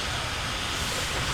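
Steam traction engine at an outdoor steam rally, giving off a loud, continuous hiss of escaping steam close by, with no voices over it.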